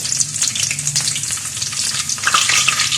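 Garlic fries in hot oil for bopis with a steady, close crackling sizzle and a few stirring scrapes, continuous throughout.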